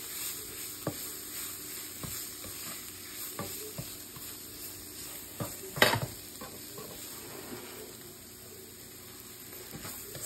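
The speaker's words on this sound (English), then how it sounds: "we're going to put the broth. 2 cups of broth" Two cups of broth go into a pan of palabok sauce and are stirred. The liquid swishes and sizzles softly, with intermittent utensil scrapes and taps and a brief louder splash midway.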